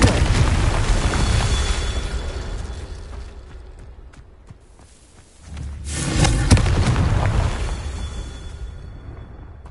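Incendio and Confringo spell explosions in Hogwarts Legacy: a loud fiery roar fades over several seconds into near quiet, then a sharp new blast erupts and rumbles on, close and booming.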